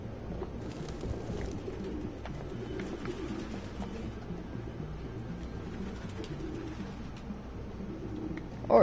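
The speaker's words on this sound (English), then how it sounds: "No human could live with all these fucking pigeons." Many pigeons cooing in a low, overlapping murmur inside a room in Detroit: Become Human, steady throughout with faint background tones.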